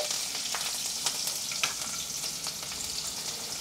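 Steady close sizzle of frying with slit green chillies dropped into hot oil with garlic and cumin for a spring onion and potato sabzi, broken by brief spoon stirs and pops, no talking.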